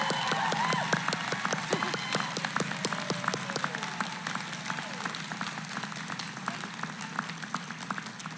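Audience applause and cheering at the Los Angeles City College 2022 commencement ceremony, sharp individual claps ringing out in an open space, with scattered cheers and crowd noise, the applause fading gradually toward the end.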